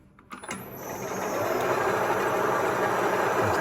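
A 1A616 lathe switched on, starting with a few clicks before its motor spins up into a steady, even mechanical whir with a faint high whine, close by and without talk.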